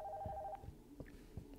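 A telephone rings inside a scary video game, a thin electronic trill that cuts off partway through and is followed by soft footstep-like thuds in a quiet room.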